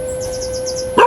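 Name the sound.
dog barking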